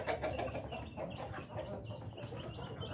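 Farm chickens cluck continuously close by, a busy overlapping chatter of clucks and soft squawks with no voices over it.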